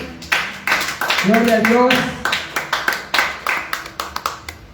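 A church congregation breaks into applause during a service, a swell of clapping with a voice calling out praise over it, followed by a run of loud, separate, rhythmic claps.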